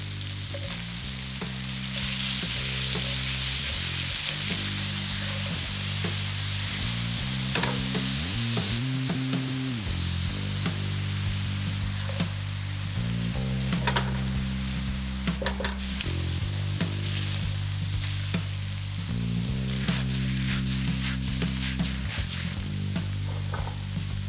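Onion sizzling in a frying pan for a pecorino pasta dish, a loud continuous hiss with faint stirring clicks, steady and close throughout.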